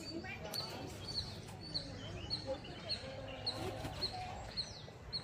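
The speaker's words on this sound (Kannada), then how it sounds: "ಕೂ ಕೂ ಸೌಂಡ್ ಮಾಡ್ತಲ್ಲ," A bird at the Planet Earth aquarium in Mysore repeats short, high calls at a steady, evenly spaced rhythm. The calls are faint and somewhat distant over a low crowd murmur.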